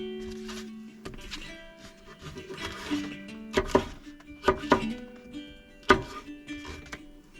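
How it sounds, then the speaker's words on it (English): Knife chopping onion and peppers on a board at a truck campsite: a run of sharp, close knife strikes in irregular bursts, some spaced singly, over a faint steady background hum. "I'm gonna start by getting this onion chopped up"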